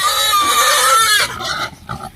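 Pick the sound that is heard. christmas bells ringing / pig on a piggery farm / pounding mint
pig on a piggery farm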